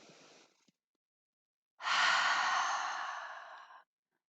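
A yoga student's slow, steady breath: a short soft exhale, a pause of about a second, then one long, loud, airy breath lasting around two seconds, close to the mic with no talking.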